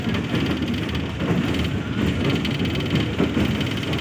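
Passenger train running on its track between Multan and Sanawan past Chenab West Bank, a steady close rumble with faint rhythmic clatter throughout and no voices.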